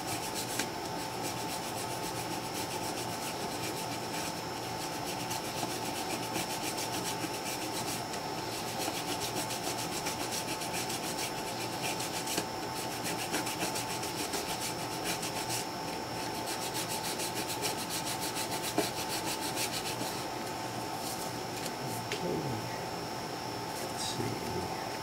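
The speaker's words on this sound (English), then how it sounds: "I just do each one by hand here. Just kind of rub them out." Steady, continuous close rubbing as micro-mesh abrasive is worked by hand across the frets over the fingerboard of a Brazilian rosewood guitar, a dense hiss with no pauses.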